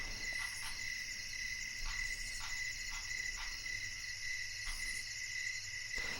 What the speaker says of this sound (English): In before my stream gets nuked for copyrighted cricket sounds.